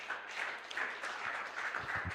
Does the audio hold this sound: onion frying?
no